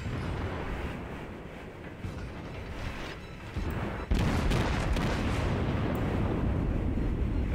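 Battleship guns fire in the naval game World of Warships with a Japanese Fuso battleship, giving a loud, rumbling boom that swells sharply partway through over continuous game noise.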